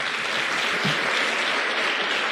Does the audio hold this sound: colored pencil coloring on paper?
no